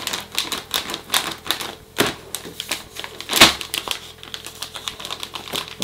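Soaked straw pellets from a mushroom growing kit are shaken inside a plastic bag, giving a steady run of dry, close crinkling clicks and rattles with one louder rustle partway through.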